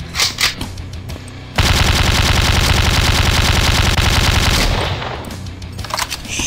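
Sustained automatic machine gun fire in a video game, a loud, rapid, unbroken burst lasting about three seconds, with quieter game sounds before and after it.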